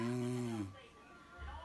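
A single snore, a low rasping buzz with a clear pitched tone lasting over half a second, followed by a faint breath and quiet room noise.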